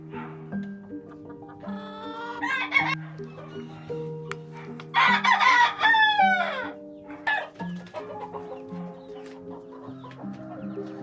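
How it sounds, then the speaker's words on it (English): Chickens cluck steadily nearby while a rooster crows loudly a few times, the calls overlapping in a busy, close-up barnyard chorus. "I am going to move these chickens out of here."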